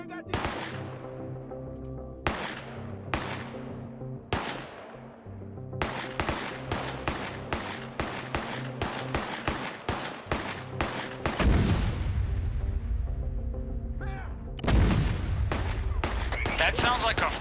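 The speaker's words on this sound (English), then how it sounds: "That sounds like a fucking mortar" Mortar and gunfire in a military video game: a run of sharp, loud blasts with long ringing tails, followed by dense rapid firing and heavy rumbling impacts near the end, while voices talk over the barrage.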